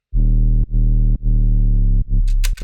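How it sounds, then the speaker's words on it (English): A heavily distorted sine-wave sub bass from FL Studio, shaped with sine shaper distortion, plays loud, sustained notes in short rhythmic phrases with brief gaps, ending in bright clicks and noise. "I have sine shaper distortion on it"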